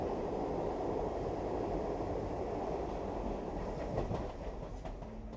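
A metro train rolls along underground with a continuous loud rumble and faint clickety-clack of wheels, the roar easing slightly near the end.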